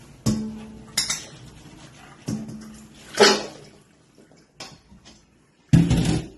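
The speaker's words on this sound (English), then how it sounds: "I'm going to strain these out." Water splashes and pours in short bursts as potatoes are strained out of cold water, with clattering knocks of a pot and metal utensils, close by and fairly quiet between bursts.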